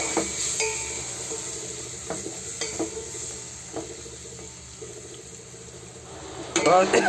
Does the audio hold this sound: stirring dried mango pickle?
yes